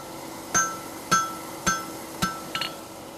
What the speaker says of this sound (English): Now I'm just gonna hit past my center punch mark away from me, just dropping my hammer and pushing up on my tongs.